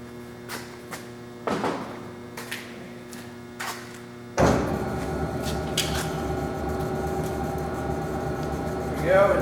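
A Doall 2013V vertical bandsaw starts at slow speed, its motor swelling into a steady mechanical whir with an even hum. Scattered clicks and knocks come just before it starts.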